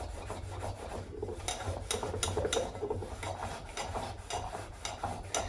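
Rough, rhythmic rasping strokes as a small kadai is scrubbed to remove stuck-on food, repeated back-and-forth rubbing up close at a moderate level, with no talking.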